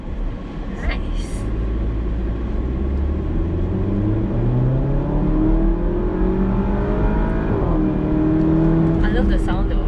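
A 2019 Porsche Macan accelerates hard on a road in Genting, its engine note climbing through the gears in rising sweeps, loud and close from inside the cabin.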